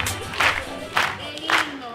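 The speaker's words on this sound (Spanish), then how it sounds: "Un aplausito para nuestro bello país, carajo." A studio audience of Peruvians at a comedy show backstage cheers for Peru. Three short bursts of shouting and whooping come in a rhythm about half a second apart, loud and close, with a hum underneath and little clear clapping.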